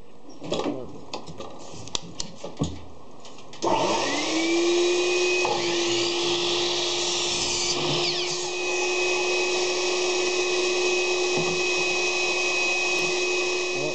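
A saw fitted with a Harbor Freight blade cuts through wood, a loud, steady high-pitched whine running unbroken for about ten seconds after a few scattered knocks and handling sounds.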